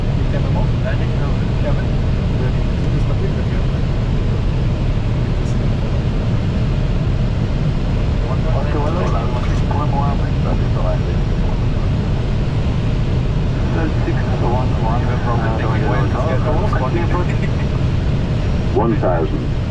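An airliner landing at Moscow Domodedovo, heard from inside the cockpit as a loud, steady roar of engine and airflow noise throughout, with faint radio chatter and voices under it.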